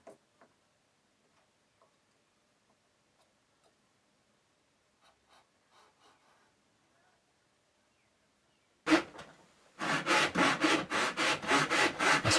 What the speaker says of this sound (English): I simply cut down to depth